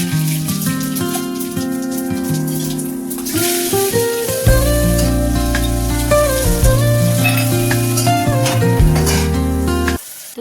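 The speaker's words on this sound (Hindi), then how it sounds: "तो मैं यहाँ पर ऐसे कर दूंगी फ्राई अभी दाल को" Dal frying with spices in a home kitchen, a continuous sizzle running beneath loud tonal background music through most of the stretch.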